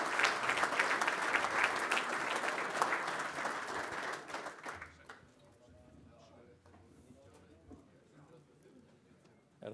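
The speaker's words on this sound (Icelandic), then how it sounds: "Er ekki bara lófatak til hamingju með afmælið?" Indoor applause from a gathering at a golf meeting rings out for about five seconds, crisp and fairly close, then fades to quiet room sound with faint murmurs.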